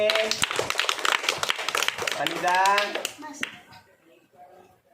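Schoolchildren at a primary school clapping for a classmate, a brisk scatter of claps from many small hands mixed with an adult voice and children's chatter, the clapping fading out toward the end.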